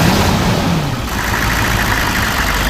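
A 1994 Chevrolet Silverado 4x4 pickup's diesel engine runs close by with a loud, steady rumble, a brief rising rev early on before settling into a continuous idle-like drone.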